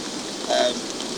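Rain pattering steadily on a single-layer one-man pop-up tent, a soft, even hiss of drops on thin fabric that stays constant throughout with a slight swell midway.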